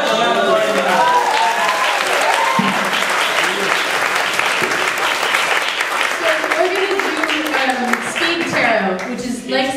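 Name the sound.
audience applause for a tarot reader taking the stage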